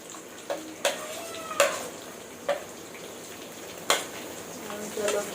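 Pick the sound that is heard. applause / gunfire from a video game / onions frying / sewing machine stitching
onions frying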